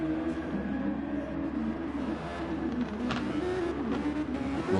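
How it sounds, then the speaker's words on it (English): Race car engine in a racing video game held at a steady drone while the throttle is worked, with small surges and dips in revs. The sound is continuous and moderately loud throughout, and no one speaks. "listen to him work that throttle in an attempt to keep the car between the white lines on the track"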